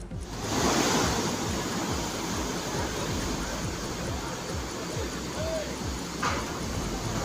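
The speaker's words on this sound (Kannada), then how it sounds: "ವರುಣನ ಆರ್ಭಟಕ್ಕೆ ಮಲಪ್ರಭಾ ನದಿ ಉಕ್ಕಿ ಹರಿತಾ ಇದೆ" The Malaprabha river, flooded and overflowing after heavy rain near Badami, makes a loud, continuous roar of rushing water with some wind buffeting, steady from start to finish.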